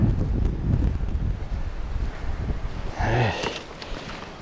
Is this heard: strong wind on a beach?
yes